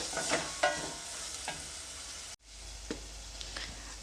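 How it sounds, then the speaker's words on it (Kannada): Ginger and garlic fry in a pan for cucumber palya, a quiet sizzle with a few light spatula scrapes, cut by a brief dropout partway through before the soft frying resumes. "ಇವಾಗ ಒಂದು ನಿಮಿಷದವರೆಗೂ ಇದನ್ನು ಫ್ರೈ ಮಾಡ್ಕೊಳ್ತೀನಿ ನಾವಿಲ್ಲಿ ಶುಂಠಿ ಮತ್ತು ಬೆಳ್ಳುಳ್ಳಿ ಹಾಕಿರೋದ್ರಿಂದ"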